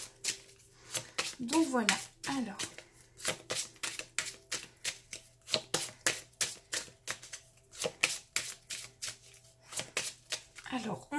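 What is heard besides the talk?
shuffling tarot cards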